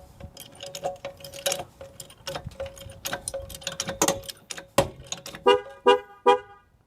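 A Protect-X Toyota alarm system sounds its warning while the car is up on a jack, a run of rapid repeating chirps and tones that ends in several louder separate beeps.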